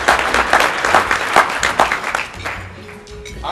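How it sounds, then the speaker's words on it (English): Audience applause breaks out during a mayor's State of the City address, a fairly loud clatter of many hands with distinct individual claps that gradually thins and tapers off. "yeah, you can clap"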